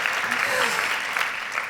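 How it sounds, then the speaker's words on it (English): Brief burst of convention audience applause at a NeoLife convention, a dense crowd clapping throughout, with a voice faintly speaking underneath. "go ahead, applaud for her"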